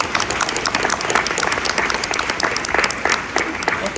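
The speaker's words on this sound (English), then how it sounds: "Let's give them a round of applause, please." An audience at a school district split debate claps in a sustained round of applause, dense and even for the whole stretch, with no talk on top.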